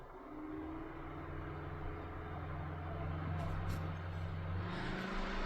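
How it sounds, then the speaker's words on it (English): A quiet electric fan for a car's back seat blows air steadily, a soft even whoosh with a low hum running alone throughout. "It's definitely pumping out a decent amount of air. And it's remarkably quiet."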